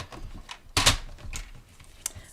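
Cardstock being trimmed with a paper trimmer, with one loud sharp slicing cut near the start followed by faint rustling and a smaller click, close by and without speech.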